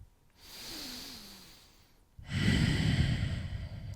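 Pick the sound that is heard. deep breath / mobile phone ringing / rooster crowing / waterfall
deep breath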